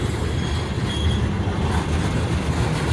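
A loaded coal train rolls past at Mount Hope with a loud, continuous rumble of wheels on rails, faint squeals riding over the steady roar, near and unbroken.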